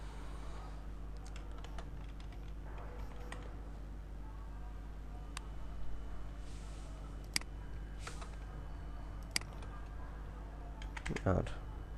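A computer keyboard clatters softly while someone designs a flyer in Photoshop, with scattered light key taps and clicks that sit quietly under a low background hum.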